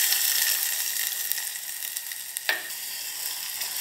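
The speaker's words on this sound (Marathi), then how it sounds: "कांदो असो बरो तळसून घेवप आनी बरो मोव करप." Onion fries in coconut oil for a king fish curry, a steady close sizzle with a faint clink partway through and no voices.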